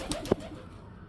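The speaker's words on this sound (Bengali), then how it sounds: "দেখেন কবুতর, আমার কবুতর এখানে একজোড়া আছে।" Pigeons in a rooftop pigeon coop give a couple of brief, soft coos, with a faint flutter near the start, then quiet background.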